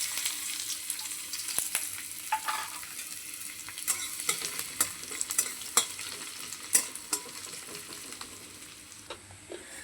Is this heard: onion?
yes